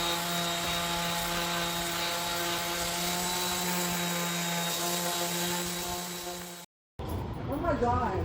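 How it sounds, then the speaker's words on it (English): An electric sander fitted with 80 grit sandpaper works a wooden chair, giving a loud, continuous droning whine that holds steady and then cuts off briefly near the end before rougher rubbing noise returns. "I'll just show you what I'm getting with the sander and the 80 grit sandpaper"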